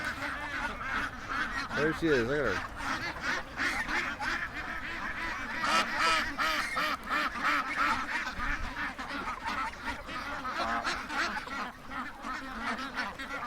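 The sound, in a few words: duck walking and quacking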